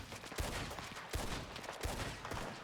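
Covering fire in a Wild West roleplay shooter, heard as a rapid run of shots at moderate distance. Some cracks land close together over a busy, noisy background.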